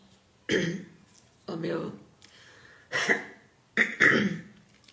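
A person with a cold and a stuffy nose clears their throat and coughs several times in short, close bursts with pauses between, and a few words are spoken in Portuguese.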